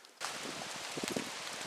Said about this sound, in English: so here we are during the rain